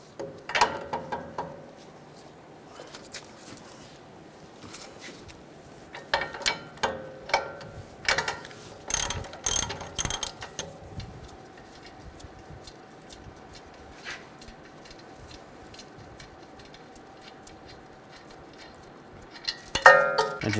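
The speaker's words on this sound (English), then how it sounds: "We're going to take this nut off," A ratchet with a 21mm socket loosening a front strut nut on a 2011-2018 Ram 1500 3.6L V6 gives close, dry clicking in several quick bursts separated by quiet pauses, with no talking.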